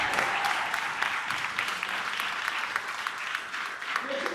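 Church congregation applauding at a Baptist church anniversary service, a steady wash of clapping filling the whole stretch at moderate loudness, with a voice speaking faintly underneath.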